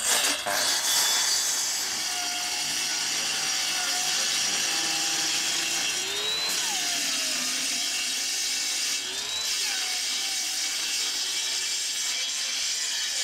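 A power saw cuts wood at a construction site, a loud, continuous broadband whine that holds steady for about thirteen seconds with slight pitch dips as the blade loads, and no talk.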